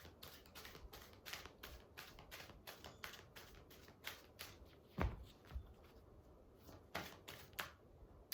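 Tarot cards being shuffled by hand, a steady run of soft riffling clicks and flutters with a few sharper taps, close and fairly quiet, no talking.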